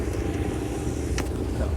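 A boat's motor runs at sea after a restart following running out of fuel, a steady loud engine drone with wind and water noise and brief voices over it.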